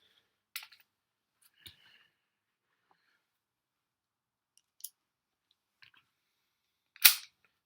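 A self-loading pocket handgun is loaded, giving sparse metallic clicks and snaps spaced seconds apart, ending in a sharper, louder clack.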